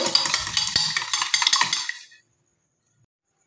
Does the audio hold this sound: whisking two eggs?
yes